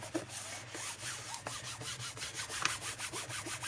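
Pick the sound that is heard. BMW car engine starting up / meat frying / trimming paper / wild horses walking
trimming paper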